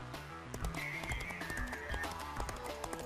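A ridden horse's hooves strike the ground in a quick, rhythmic clip-clop that is close and fairly loud, with a faint whinny-like tone over the beats.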